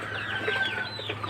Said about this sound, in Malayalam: കോഴികൾ പൂവൻ കോഴി, പിടക്കോഴി ആവശ്യക്കാർക്ക് കൊടുത്തുകൊണ്ടിരിക്കുകയാണ്.